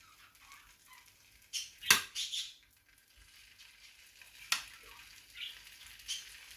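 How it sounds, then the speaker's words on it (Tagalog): Sausages for a full English breakfast are dropped into a hot pan and fry with a soft, steady sizzle, broken by two sharp clanks of the pan and utensil. "I'll put first the sausage"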